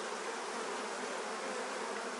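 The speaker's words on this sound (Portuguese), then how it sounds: "Então tá aqui a abelha rainha" Honey bees at an open hive during inspection, a dense steady buzz from many insects, continuous and even, close by and faint in level, with no voices.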